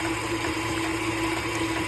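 A KitchenAid stand mixer churns cream into butter, giving a steady, loud mechanical whir with a constant hum and a wet churning wash as buttermilk splashes, unbroken and with no voices.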